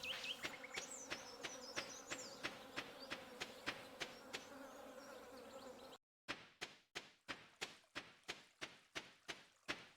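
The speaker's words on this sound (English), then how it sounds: "So if you hear like some buzzing, that's like the summertime sound." Summertime insect buzzing from a seasonal sound mod in Stardew Valley, a steady droning hum with repeated soft rhythmic ticks, then after a brief cut a clearer run of evenly spaced sharp clicks, with no talking.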